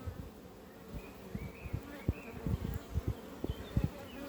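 Honey bees buzzing around hive frames from a divided swarm, a close, fluctuating drone with brief louder passes by individual bees.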